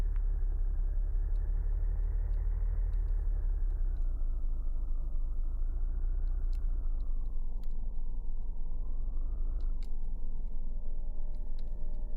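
Steady low engine rumble from a car idling inside a video game, a continuous drone with a slowly shifting tone that runs the whole time, loud and unbroken with no talk over it.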